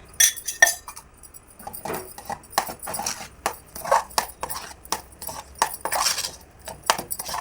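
A spoon scraping and clinking against a pan while ghee is stirred into cashew rava kesari, irregular metallic taps and scrapes close up, with no speech.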